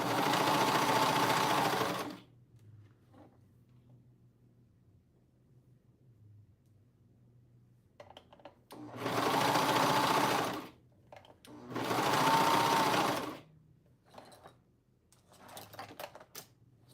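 Cover stitch sewing machine stitching in separate bursts: a long whirring run at the start, two more sustained runs midway, then short stop-start spurts, with quiet pauses between, close and clear.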